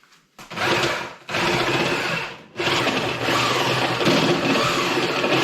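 A power drill enlarges a hole in a part of an OPC tractor, running in three loud, close bursts of steady high whirring with short pauses between them and no speech.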